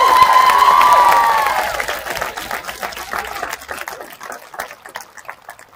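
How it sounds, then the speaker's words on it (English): Applause for the school janitors at a morning high school graduation ceremony in 2021, a crowd clapping loudly and densely at first, then thinning into scattered claps as it fades over several seconds. "I want to invite everyone to give a round of applause for the janitors of the school"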